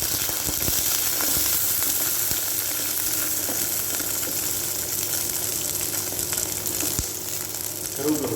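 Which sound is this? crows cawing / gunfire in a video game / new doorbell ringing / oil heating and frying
oil heating and frying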